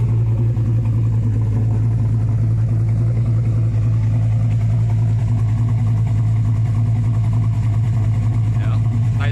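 Chevy S10 with an LS6 engine swap idles through a Dynamax Ultra Flow welded oval muffler, a steady deep rumbling exhaust drone heard up close at the rear, continuous and loud throughout.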